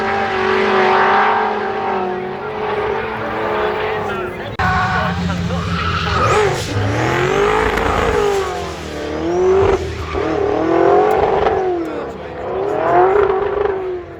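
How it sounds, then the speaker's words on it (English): Drift cars doing synchronised drifting at a spring track action day, engines revving hard and tyres squealing continuously, loud and close with pitch swooping up and down as the cars slide. "impressive synchronised drifting there"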